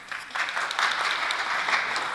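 Audience at a televised congressional candidate debate breaks into steady applause, a dense wash of clapping that holds loud and even for a couple of seconds without talk over it.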